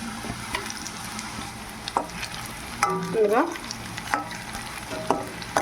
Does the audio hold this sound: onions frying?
yes